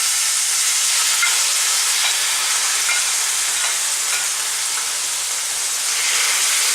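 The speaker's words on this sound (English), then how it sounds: "I'm going to stop talking if it starts sizzling" Thinly sliced chicken breasts sizzle as they fry in a pan, a loud, steady hiss with faint crackles that stays constant throughout, close up and with no talking.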